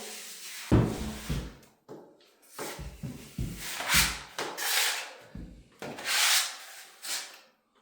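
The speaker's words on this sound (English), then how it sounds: "we can sand this where we can't really sand the concrete walls" Sanding a skim coat on an interior wall, with repeated rough scraping strokes of varied length, close and fairly loud, separated by short pauses.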